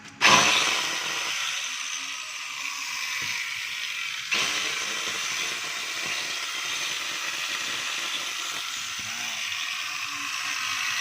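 DeWalt DWE8200S 4-inch 850-watt angle grinder running with sparking and a noisy gear: a steady, loud broadband whine that starts abruptly, dips, then surges again near the middle and holds, with no talk.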